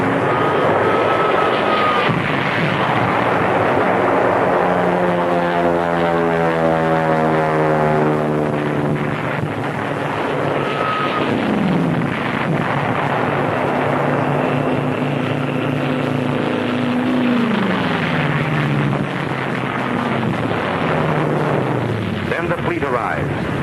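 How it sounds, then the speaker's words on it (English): Propeller-driven dive bombers attack an island in old wartime newsreel footage, a loud droning engine roar with sweeping pitch shifts as planes dive and pull out, a narrator speaking over it. "Enemy aircraft have been liquidated, and the dive bombers have it their own way."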